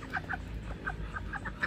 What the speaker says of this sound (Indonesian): Ini entok nih, ini yang masih kecil, itu indukan gedenya.